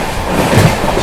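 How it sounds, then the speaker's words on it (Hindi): An Indian Triveni Express passenger train rolls past close by during an overtake, giving a steady, loud rumble of rail wheels and carriages with a faint clickety-clack, no voices. "Overtaking Triveni express."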